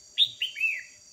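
Red-whiskered bulbuls give a short, clear call of three bright whistled notes, close and alone against quiet.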